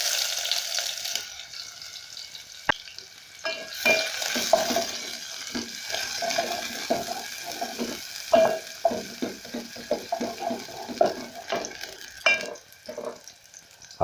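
Onions are dropped into hot cooking oil in a sufuria and fry with a crackling sizzle that rises, then keeps spitting and popping under bursts of stirring and scraping, close and fairly loud.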